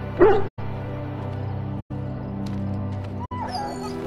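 A dog in a video game whimpers in a short, soft whine near the start, set over a steady game soundscape that cuts out briefly a few times.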